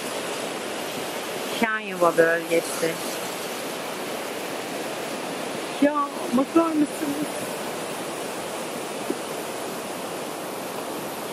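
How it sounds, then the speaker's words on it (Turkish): A mountain stream in Sıtına Valley, Rize, rushes with a steady broadband roar throughout, while a voice speaks briefly twice over the water. "Rize, Sıtına Vadisi Deresi,"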